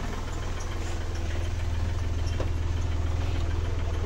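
A car engine idles with a steady, low, throbbing rumble that stays constant and fairly loud throughout, close by and without any talking.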